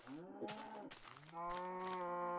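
A Minecraft cow moos twice in a long, low, drawn-out call, the second moo louder and steadier than the first, with no other sounds around it.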